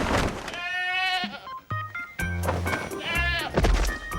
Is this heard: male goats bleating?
yes